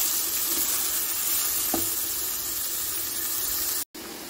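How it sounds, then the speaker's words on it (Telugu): Onion pieces and chana dal fry in hot oil with a steady, hissing sizzle, close and continuous, broken by a faint stirring clink midway and a brief cut near the end. "పచ్చిశనగపప్పు అంతా వేగిన తర్వాత మన ఉల్లిపాయ ముక్కలు వేసుకున్నాం అనుకోండి"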